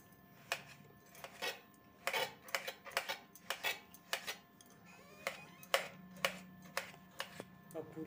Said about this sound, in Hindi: अब इसको छोटे टुकड़े में काटेंगे।